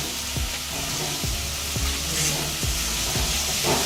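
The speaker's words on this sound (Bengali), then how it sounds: "এগুলো আবারও ভালো করে কষিয়ে নিতে হবে" Banana kofta masala with green chillies sizzles steadily in a hot pan, the constant frying hiss broken by regular soft thuds and scrapes of stirring, close and alone.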